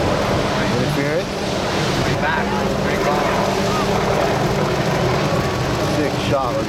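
A helicopter flies over big wave surfing at Peahi, its steady rotor drone blending with heavy ocean surf and roaring water, while people talk over it throughout.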